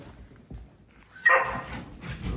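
A dog gives a short, sharp bark followed by a few softer yips and whimpers, close by in an otherwise quiet outdoor setting.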